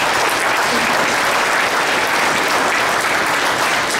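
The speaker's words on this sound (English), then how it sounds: "Can we give them a round of applause, please?" A large crowd at a tribal State of the Band address gives loud, dense, continuous applause to thank event organizers, unbroken and even throughout.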